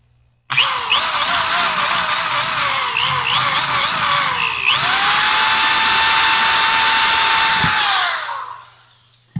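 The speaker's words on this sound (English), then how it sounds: "Get that drill bit in there again." Power drill whining hard as it drives a bit into a stubborn through bolt on a Proline pool pump, its pitch warbling and sliding before settling into a steady high whine that cuts off near the end, loud and close with no talk.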